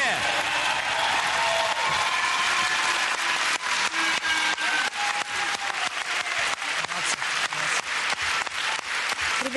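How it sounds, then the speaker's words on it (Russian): An arena crowd applauds after a figure skating performance, a broad wash of clapping with sharper individual claps standing out as it continues, while voices talk over it. "и зрительские аплодисменты"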